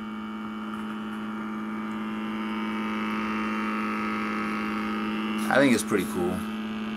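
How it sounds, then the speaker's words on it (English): An ultra-thin dual axial flux PCB coil motor driven by a John Bedini circuit runs with a steady, even tonal hum and whine throughout, close and constant, while someone speaks briefly over it near the end. "Ultra thin dual axial flux PCB motor."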